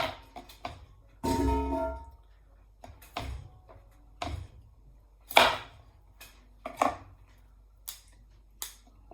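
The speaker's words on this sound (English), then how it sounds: "Cut the broccoli" A knife cuts through broccoli on a board in a home kitchen, giving about a dozen sharp, irregular chops and crunches, some heavier than others, with quiet pauses between them.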